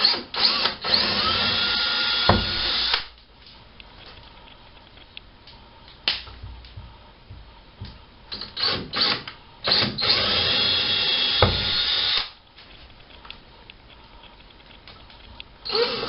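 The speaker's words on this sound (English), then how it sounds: "start your drill slow and drill some holes" An electric drill whirs loudly in two long bursts, drilling holes in a wall to hang a mirror or coat hanger, with shorter starts and stops and scraping between them, close up, no talking.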